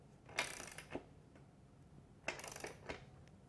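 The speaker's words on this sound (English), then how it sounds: "you can put your wrench back on the axle nut and tighten her up" A ratcheting wrench tightens the rear axle nut on a Yamaha YZ450F motorcycle, two faint bursts of quick metallic clicks with light clanks, close but quiet, with no talk.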